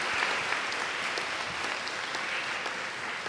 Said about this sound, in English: giving our esteemed keynote speaker a big round of applause again